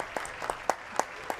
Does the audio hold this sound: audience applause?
yes